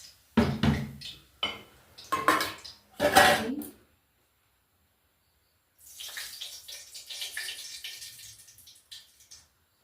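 Water pours steadily into a pot holding sugar for a syrup, a soft splashing gush that runs for several seconds after a short burst of clattering handling sounds and then a silent pause.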